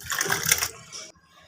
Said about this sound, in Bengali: শাকগুলো খুব ভালোভাবে ধুতে হবে যাতে বালু টালু না থাকে।